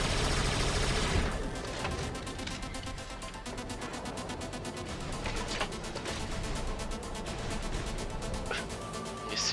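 Rapid gunfire from robots in the War Robots video game, with a dense, continuous rattle of shots running almost the whole time, plus a few sharper bursts standing out.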